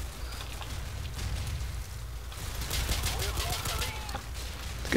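Rapid pistol gunfire in the Call of Duty 4 online multiplayer game on the Ambush map, a dense run of sharp cracking shots through the middle and end of the clip over steady low game rumble.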